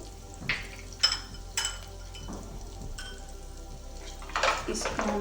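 Garlic sizzles and fries in a pan while a spoon stirs it, with crackling spatter throughout and a few sharp scraping knocks of the spoon against the pan, close and moderately loud.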